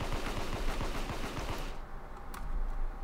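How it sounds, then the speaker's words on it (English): A minigun fires in DDRace as a rapid, steady stream of clicky shots, then cuts off abruptly into quiet with a single faint blip. "it makes it a minigun, so you can, like, lift yourself by shooting"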